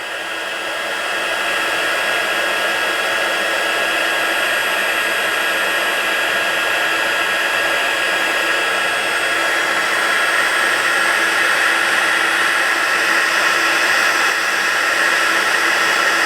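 A heat tool blows hot air to set embossing for a star-shaped craft project, a loud, steady whooshing roar that runs unbroken after a short start-up.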